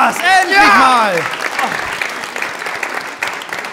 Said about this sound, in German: dann Applaus bei 3, 2, 1, jetzt!